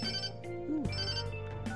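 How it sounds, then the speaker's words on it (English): A cell phone rings in the Persona 5 video game, a close electronic ringtone with a sustained melodic tone and a falling pitch sweep over a steady musical background, no voices. "Cell phone."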